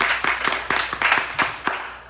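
Meeting attendees clap in a short burst, a handful of hands making distinct sharp claps in an uneven rhythm, fairly close, lasting about two seconds with no speech over it.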